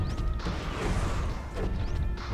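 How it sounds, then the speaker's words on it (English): Melee smashing in the Ratchet & Clank video game, dense continuous crashing and thwacking impacts with metallic clatter and whooshes, loud and without talk. "Smashing it up. Melee, melee, melee."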